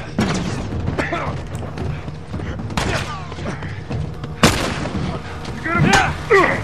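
Gunfire in The Last of Us, with sharp loud shots and booms scattered across the stretch, some creaking mechanical sounds, and a voice talking under the shots.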